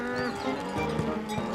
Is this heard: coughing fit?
no